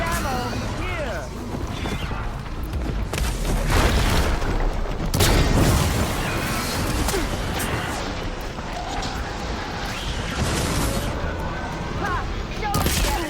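Dense, sustained gunfire and explosive booms from a battle in the video game Horizon Forbidden West, loud and continuous throughout, with voices calling out over the shooting.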